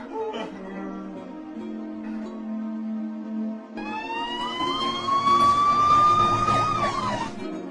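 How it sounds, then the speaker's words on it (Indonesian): A police car siren wails from a distance, rising and falling over low background noise, growing louder partway through with no talking. "dari kejauhan terdengar suara sirine mobil polisi"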